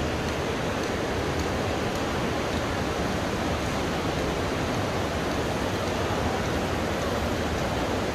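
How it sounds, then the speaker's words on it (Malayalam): A river rushes past outside Manikaran Sahib Gurudwara near the natural hot springs at Manali, a dense, even roar of water that holds steady and close throughout with no voices. "ഗുരുദ്വാർ അതിൻ്റെ പുറത്തൊരു പുഴ ഒഴുകുന്നു"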